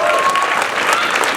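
Crowd applause at an outdoor climate change rally in Los Angeles, dense clapping and cheering from many people throughout, with a voice speaking over it.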